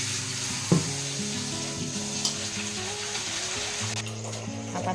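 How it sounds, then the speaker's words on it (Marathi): Chopped spinach being washed in clean water, with a continuous swishing, bubbling wash and a few sharper knocks, steady and fairly close, with no talking. "आता हा चिरलेला पालक आपण चांगला स्वच्छ पाण्याने धुवून घेणार आहोत।"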